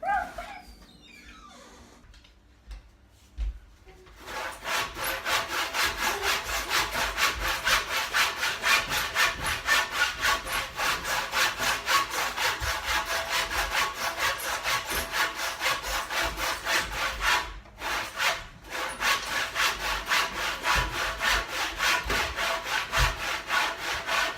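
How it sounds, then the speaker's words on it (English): A handsaw cuts steadily through wood while a coastal-style canoe is carved by hand, with loud, close, rhythmic back-and-forth strokes running nearly nonstop after a quieter start, with only brief pauses. "I'm just using that handsaw that you see, a chisel and a hammer"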